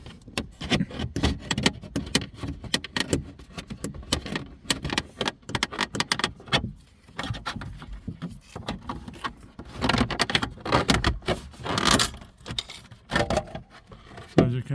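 Plastic trim panel being pried and peeled off a VW Golf Mk5 dashboard, a dense series of sharp clicks, creaks and snaps from metal clips releasing, close and irregular, with no talk.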